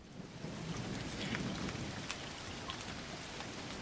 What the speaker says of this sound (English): Rain pummeled the sides of the barn, and the wind whipped mightily.